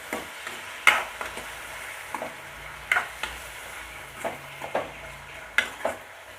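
Beetroot sautéed with salt in a pan, heard as a steady low sizzle with repeated scraping stirs and occasional clinks of a spoon against the pan, close and fairly quiet.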